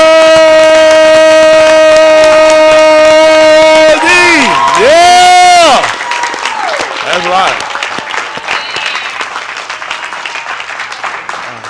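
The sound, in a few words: congregation clapping hands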